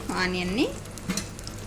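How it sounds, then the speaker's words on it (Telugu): Onions fry in hot oil with a steady crackling sizzle, and a brief vocal sound rises over it near the start. "ఆనియన్ కూడా వేసి బాగా ఫ్రై చేసుకోవాలి"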